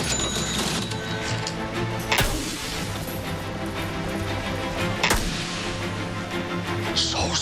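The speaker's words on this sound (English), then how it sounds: "Cash registers." Cash registers ring and clatter in a busy mechanical jumble, with sharp crashing bursts near two and five seconds, set in a shopping commercial.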